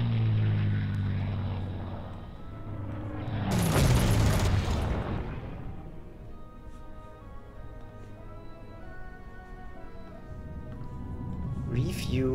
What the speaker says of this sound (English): Bombers, go forward.